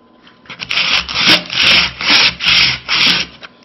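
Folded Oslong sandpaper rubbed by hand across wood in five or six even back-and-forth strokes, a loud, close rasping hiss that rises and falls with each pass.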